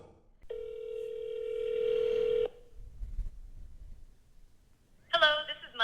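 A phone call placed to an AI receptionist answering for a restaurant: a steady electronic tone sounds for about two seconds, then quiet low rumble, before a voice picks up near the end.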